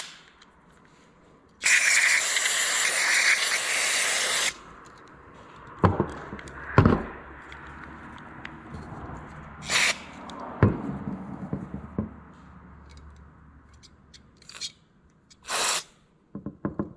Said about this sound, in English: back to the carbon choke cleaner.